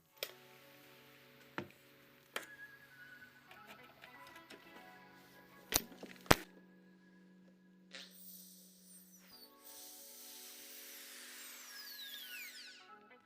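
An electric drill running off a homemade inverter built from an old Soviet charger whirs steadily with faint clicks and a few sharp knocks, then a higher, louder spin-up toward the end; no one speaks.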